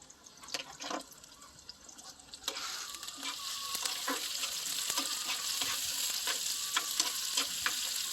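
Sweet peppers fry in a pan for a cow spleen dish, giving a steady close sizzle that builds and holds, with a few sharp stirring clicks and scrapes scattered over it.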